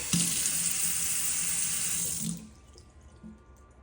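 Water gushes strongly from a kitchen faucet into a deep stainless steel sink for a couple of seconds, then shuts off, leaving a quiet room with faint clatter.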